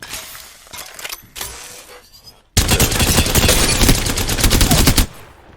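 Rapid automatic weapon fire from a video game, a sustained burst of closely spaced shots that starts abruptly halfway through and stops sharply, preceded by a few quieter scattered shots and clicks.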